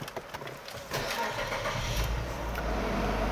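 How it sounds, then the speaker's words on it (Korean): A 2015 Renault Samsung SM7 Nova engine, with about 195,000 km on it, cranks and catches at the first try, then settles into a steady low idle. "스마트키 이렇게 카드형으로 들어가 있는 차량입니다 시동 걸어 볼게요"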